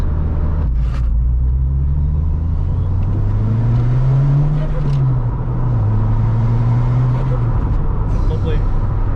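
A turbocharged Ford Fiesta ST 150 with a fitted turbo kit accelerates in a loud, steady engine drone that rises and falls in pitch across the run, with people talking over it.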